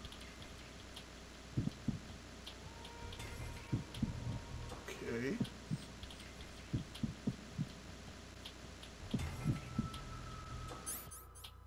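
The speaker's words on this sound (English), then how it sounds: "Whoa, that heartbeat is weird." Steady heartbeat thumps from Metal Gear Solid 2 pulse in doubled beats through a quiet ambient drone, while someone speaks briefly over them.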